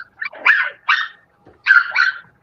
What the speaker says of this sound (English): A little dog like that.